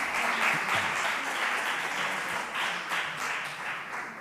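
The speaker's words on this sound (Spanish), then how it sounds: "vamos a darles un fuerte aplauso" An audience bursts into loud, sustained applause, dense clapping that stays strong and then tapers slightly at the end.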